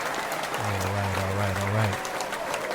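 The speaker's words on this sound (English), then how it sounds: "hand clap for Mr. Mervyn Warren." An audience gives steady hand-clapping applause to welcome a guest, dense and continuous throughout, with a low hum underneath.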